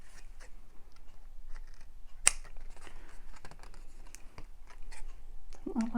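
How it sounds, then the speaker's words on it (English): Scissors snipping paper for a Christmas junk journal, a series of quiet close clipping snips with small paper rustles and faint speech in between. "I think I might have to snip it."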